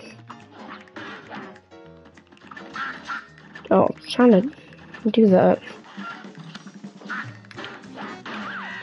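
Duck enemies quack in the Cuphead fight against Beppi the Clown, a rapid cluster of short, loud quacks rising over game music while someone talks.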